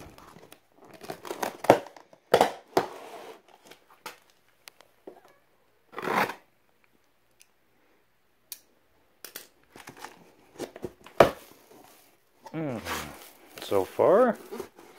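A knife slices and tears through packaging for desk legs in scattered crinkling, ripping bursts separated by quiet gaps, close up, with a voice talking in between.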